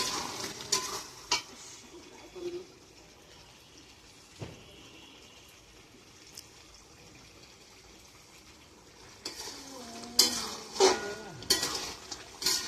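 Chicken meat stir-fried in a pan for a Bengali chicken curry, giving soft intermittent scraping and sizzling with bursts of spoon-against-pan clatter, louder toward the end.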